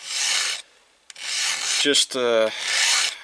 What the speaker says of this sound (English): What I'm doing with the hand file here